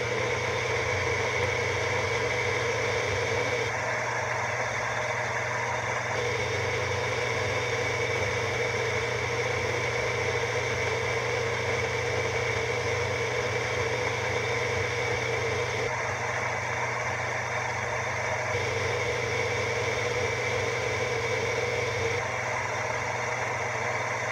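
A motorized grinder runs continuously while grinding worm food for a second time, producing a steady loud droning hum with strong low tones and a slight rise and fall in pitch, close by and with no voices.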